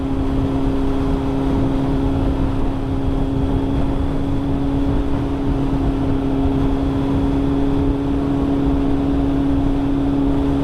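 Kawasaki ZX6R sport motorcycle engine droning steadily and loudly throughout, a strong sustained tone under constant road and wind roar, with no talking.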